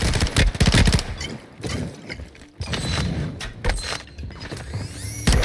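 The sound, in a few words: gunshots in Call of Duty Warzone video game Gulag fight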